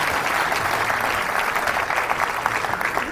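A big crowd of bowling fans at a PBA Tour Finals event in Allen Park, Detroit, applauds and cheers in a steady roar of clapping and crowd noise, dense and sustained throughout.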